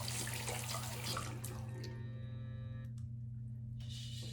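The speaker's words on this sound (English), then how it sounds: "So of course I'm gonna rinse this off." Running tap water splashes over a Soniclear Petite facial cleansing brush held under a faucet, a close, steady rush that thins and briefly drops away near the end before resuming.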